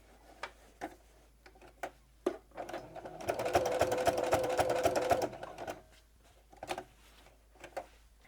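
A sewing machine stitches a patchwork stocking made from fabric scraps, running in one steady burst of rapid, even ticking for about two seconds, framed by quieter clicks and handling sounds before and after.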